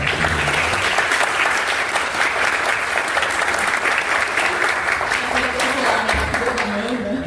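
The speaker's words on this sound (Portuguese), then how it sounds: "Uma salva de palmas para a nossa" Sustained loud applause from an audience at a women's political event, dense clapping filling the whole stretch with some crowd noise and a few voices underneath.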